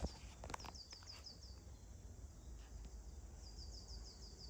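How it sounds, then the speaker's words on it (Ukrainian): Small birds chirp in a spring country garden, repeated short phrases at a moderate distance, with a few rustling footsteps near the start and a steady outdoor background. "Дуже гарно співають пташки."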